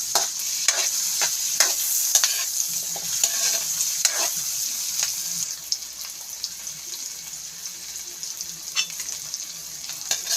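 Tomatoes sauté in margarine in a pan with a constant close sizzle, punctuated by repeated scrapes and clicks of stirring.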